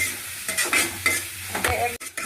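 Cabbage and tomato stir-fry in a pan for noodles. A spatula scrapes and stirs in repeated strokes over a soft, steady sizzle, heard close up with no voices.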